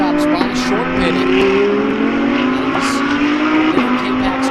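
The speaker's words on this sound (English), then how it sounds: "The K-Pax car, Andrea Caldarelli behind the wheel, coming around" The K-Pax GT race car with Andrea Caldarelli at the wheel, circling Sonoma circuit in a GT World Challenge America race, engine loud and close with sharp gear-shift pitch drops and faint tire squeal, commentary voices underneath.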